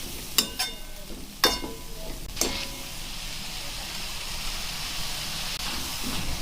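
Methi with dried prawns fries in a pan, giving a soft steady sizzle and hiss, broken early on by a few sharp scrapes and clinks from stirring, then continuing as an even quiet frying noise.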